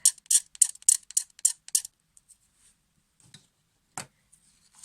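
Scissor blades are drawn along glitter ribbon in a quick run of about eight crisp, raspy scrapes, followed by faint ticks and one sharp click near the end.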